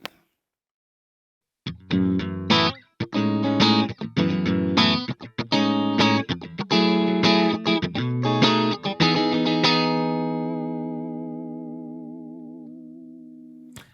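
Dry electric guitar through a Laney Lionheart or Ironheart Loudpedal with reverb off, chords strummed in quick bursts, then a final chord rings out and slowly decays with a wavering, chorus-like shimmer.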